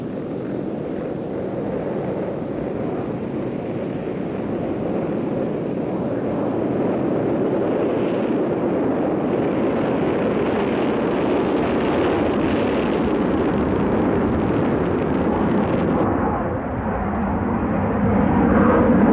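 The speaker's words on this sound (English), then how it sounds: "the Valkyrie took to the air for the first time to begin a series of epoch-making test flights" North American XB-70 Valkyrie jet aircraft taking off on its first flight, a loud continuous engine roar that swells and stays strong for the whole stretch, briefly dipping before surging again near the end.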